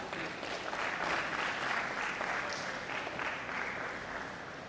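Sustained applause from a college lecture audience, steady clapping filling the space for several seconds before tapering slightly.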